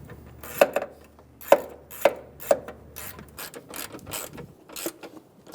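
A 10mm bolt on the windshield washer reservoir of a 2003-2008 Honda Pilot is tightened with a ratchet, giving several sharp, close clicks in an uneven rhythm followed by lighter ticking.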